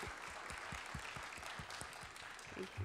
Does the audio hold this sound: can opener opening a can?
no